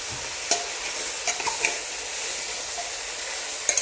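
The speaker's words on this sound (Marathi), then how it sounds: "आता हे सगळं आपण मिक्स करून घेऊया" Mundi rassa, a spicy village-style goat head curry, stirred in a pan with salt and turmeric: soft continuous sizzle with a few sharp scrapes of a spoon against the pan, close by, with no voices.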